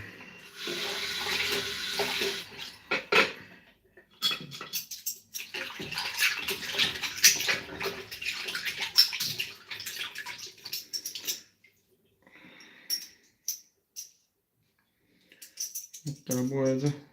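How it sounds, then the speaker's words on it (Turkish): Parts of a three-piece safety razor, a Gillette Tech clone, are washed with soap under running water: bursts of tap flow and splashing, soft clinks of metal pieces, then pauses of near silence, close by, with a voice at the end. "Bunları bir sabunla yıkayalım."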